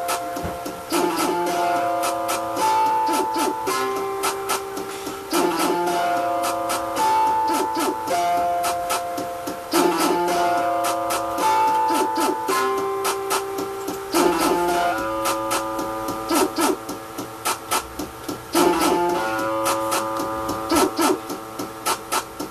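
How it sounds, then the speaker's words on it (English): A distortion beat played on a Casio LK100 keyboard, a looping pattern of buzzy, gritty tones and percussive hits repeating about every four to five seconds, steady and fairly loud with no talk. "That's my distortion beat"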